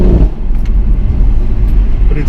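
A BMW M140i lets out a quick exhaust pop on the throttle, close and loud over a low engine rumble, with someone talking over it.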